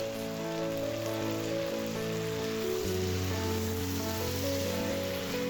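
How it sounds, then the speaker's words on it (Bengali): Black eggplant pieces dropped into frying chicken in a pan, setting off a loud, dense, continuous sizzle heard up close with no voices. "চিকেনটা কষানোর পর আমি এখন দিয়ে দিচ্ছি কালো বেগুন।"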